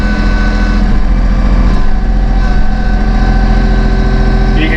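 The engine of a Massey Ferguson 1M.40 eHydro compact tractor with a deluxe cab runs at raised RPM during loader work, giving a loud, steady drone close by that continues unbroken throughout.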